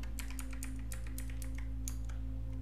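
Keys tapped on a computer keyboard while a root password is entered during a CentOS Stream 9 installation in VirtualBox, a quick run of light clicks over a constant low electrical hum.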